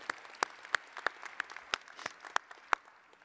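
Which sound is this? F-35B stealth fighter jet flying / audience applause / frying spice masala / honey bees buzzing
audience applause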